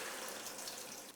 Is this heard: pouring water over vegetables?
yes